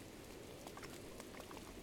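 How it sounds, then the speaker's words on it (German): Steady rain pours down in Zora's Domain in the video game The Legend of Zelda: Breath of the Wild, a dense, even hiss of drops with scattered small splashes, continuous and fairly quiet, with no one speaking. "Und wegen dem es hier unaufhörlich regnet."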